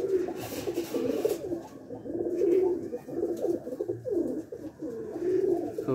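Rajshahi Giribaz pigeons coo in a loft, soft throaty calls repeating in a steady rolling rhythm, close and continuous with no talking.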